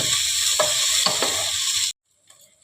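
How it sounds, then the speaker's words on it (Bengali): Rice frying in a pan with ghee and spices for pulao, a loud, close sizzle with a few scraping stirs, then cutting off abruptly into near silence with faint clinks. "চালটা একটু ভালো করে ভাজতে হবে"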